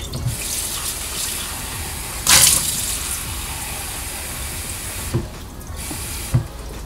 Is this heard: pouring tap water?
yes